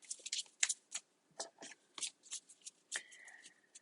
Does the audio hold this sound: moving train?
no